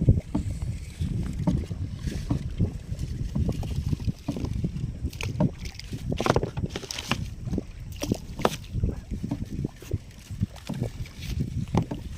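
Water sloshes and splashes in uneven strokes as a small boat is paddled nearby at Yanam landing near Kakinada, with wind buffeting the microphone and no talking.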